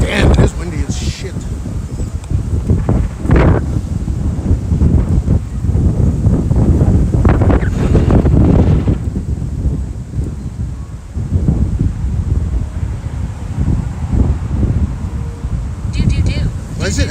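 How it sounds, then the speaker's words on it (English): Strong wind buffets the microphone outdoors in Tokyo, a loud, continuous roar that swells and eases over the whole stretch, with someone talking intermittently through it. "Damn, it is windy as shit."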